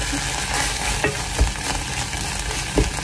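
Minced garlic and bacon fry in a small pan, a loud, close sizzle and crackle with a couple of stirring scrapes and knocks, no speech.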